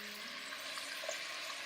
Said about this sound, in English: when my oxtail is finally fried, I add them all back to the pot